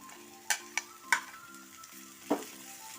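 Ginger fries on a medium flame in a pan with a soft, steady sizzle, broken by a few sharp clicks as a spoon stirs and scrapes the pan. No one speaks.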